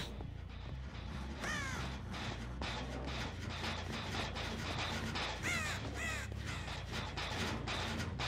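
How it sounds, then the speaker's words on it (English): Crows caw repeatedly in the horror video game Dead by Daylight, their harsh calls rising over a dense, steady wash of game ambience for the whole stretch. "Fuck off, crow."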